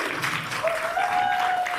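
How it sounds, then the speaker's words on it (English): A short burst of audience applause follows at a school instrumental band concert, steady and moderately loud, with a faint sustained tone over it. "A big round of applause for them."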